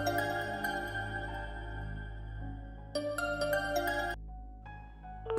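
A phone ringtone plays a melodic electronic tune, fairly quiet, with a repeating phrase that pauses and resumes.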